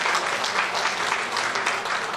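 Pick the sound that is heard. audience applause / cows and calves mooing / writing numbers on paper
audience applause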